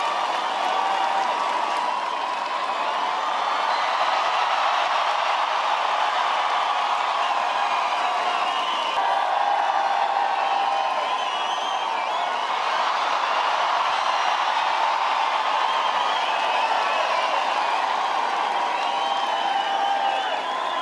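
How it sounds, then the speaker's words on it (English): A large outdoor crowd cheering for King Frederik X and Queen Mary at the Danish proclamation, a continuous distant roar of voices and whoops with faint clapping, swelling slightly in waves. "the crowd got huge cheers when Mary came out, but the biggest cheers were for Christian"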